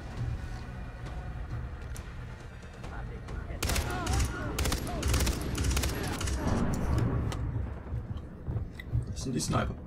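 Sniper fire crackles through a Far Cry 3 firefight as sharp reports and bursts of gunshots under steady game ambience, while people talk over the action.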